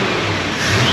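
A Dodge 318 small block V8 in a 1977 truck runs loud and close, a steady rough engine roar that rises slightly as it revs.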